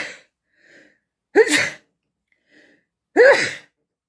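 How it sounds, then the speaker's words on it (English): Two sharp sneezes, each preceded by a soft intake of breath, with quiet pauses between them and no talking. "Oh, I'm going to sneeze."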